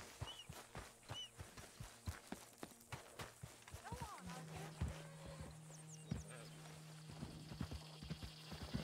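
Horse hooves clip-clop in a steady, close rhythm across a dirt path in Red Dead Redemption 2, with a low sustained engine-like drone entering halfway and occasional speech over the gait.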